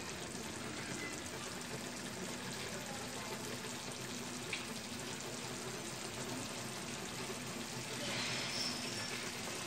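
Hot water pours into a pot of beef and potato curry as a steady, continuous rushing hiss with a light sizzle that lasts throughout and swells slightly near the end.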